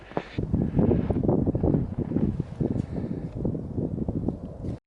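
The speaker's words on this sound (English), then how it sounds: "It's mighty windy down here today." Strong wind roars and buffets the microphone continuously on a frozen lake at night, a low rumbling gusty noise with no voices, cutting off abruptly at the end.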